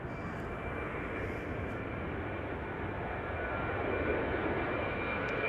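Distant KLM airliner jet engines roaring steadily as a flight departs Schiphol for Oslo, a broad continuous rumble that swells slightly toward the end.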